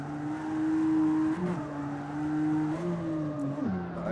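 An in-game car engine in CarX Street, driven with a steering wheel, holds a steady high drone against the rev limiter through a drift, with brief pitch jumps at gear shifts and a faint tire squeal, loud and close.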